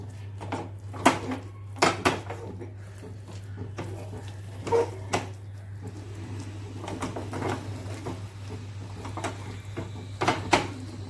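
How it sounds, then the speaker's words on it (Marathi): A spoon scrapes and clatters against a pan as kothimbir vadi mixture is stirred over a gas flame, with irregular metallic knocks at intervals over a steady low hum and no speech. "पूर्ण घट्ट होईपर्यंत आपल्याला हे गॅसवरती ठेवून हलवत राहायचं आहे."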